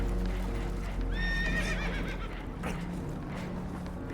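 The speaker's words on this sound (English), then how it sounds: "Horses are spooked, and we're taking on water." A horse in a video game whinnies loudly with a rising, quavering neigh, over rumbling background noise and faint hoof clatter, spooked aboard a boat taking on water.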